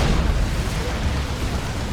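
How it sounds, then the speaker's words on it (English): A Demolisher Cannon shot from a Baneblade in a Dawn of War 2 battle, a loud, dense explosive roar with heavy low rumble filling the moment, part of continuous game battle noise. "Good Demolisher Cannon shot as well."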